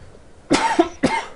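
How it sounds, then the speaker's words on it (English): Two quick, close coughs, the second following about half a second after the first, sharp and fairly loud against a quiet background. "I'm coughing up a storm"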